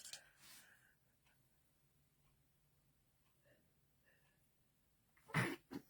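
A single sharp sneeze bursts out near the end after several seconds of near silence, preceded by a faint breathy sound at the start.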